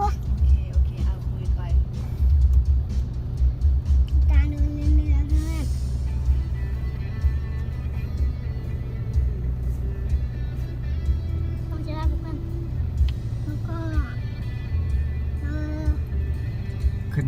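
A car with a 1.9-litre engine creeps slowly up a steep, winding road with no throttle, its engine rumbling low and steady near idle around 900 rpm, while voices talk inside the cabin.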